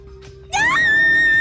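A girl screams in the Danganronpa 2 video game, a sudden loud high shriek that rises sharply and holds a long sustained wail after a brief quiet lead-in with a low steady tone.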